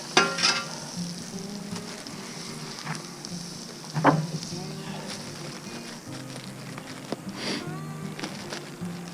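Hamburger buns toast in butter on a Blackstone griddle with a steady, close sizzle and occasional scraping clinks, while someone talks over the sound throughout.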